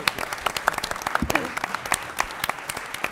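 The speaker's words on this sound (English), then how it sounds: "A round of applause." Scattered, uneven clapping from a modest audience at a Bloomington city candidate forum, with individual sharp claps standing out in a loose, thinning patter.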